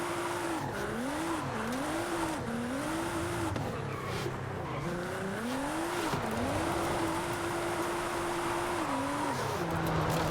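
A modified Nissan 350Z drifts in Forza Horizon 5, its engine tone rising and falling in long sweeping arcs with steady tire noise, continuous and fairly loud throughout, with no talking.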